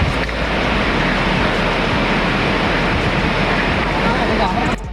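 Punnayar waterfall in Idukki roars as a dense, constant rush of falling water, loud and unbroken from start to finish.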